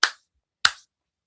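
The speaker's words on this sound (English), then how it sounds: "let me clap." Two sharp hand claps, close and loud, spaced about half a second apart with silence between them.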